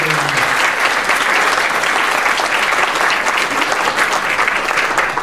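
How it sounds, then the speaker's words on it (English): A large gala audience applauds steadily and loudly throughout, a dense continuous clatter of many hands with no pauses and no speech over it. "let's give everybody a round of applause."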